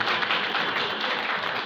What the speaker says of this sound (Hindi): इसके लिए जोरदार ताली पहले आप अपने लिए हो जाएंगे